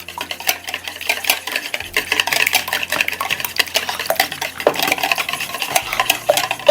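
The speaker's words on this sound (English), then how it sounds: "And whisk up the eggs." Eggs whisked briskly in a bowl for keto lemon bars, a steady rapid clatter of the whisk against the sides, close and continuous with no talking.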